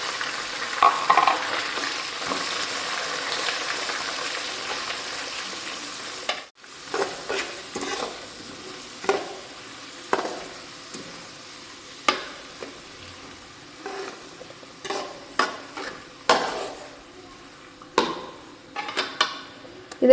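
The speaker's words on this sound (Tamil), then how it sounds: "அடுத்து தட்டி வச்சுருக்க வெங்காயம் சேர்த்துக்கலாம்." Crushed onions frying in oil for Tamil tomato thokku, a steady sizzle with repeated stirring scrapes and utensil knocks against the pan, close and moderately loud with no talk.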